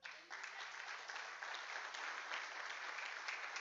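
A church congregation claps for the King during a sermon, a soft but dense wash of many hands starting abruptly and holding steady for a few seconds, heard from some distance.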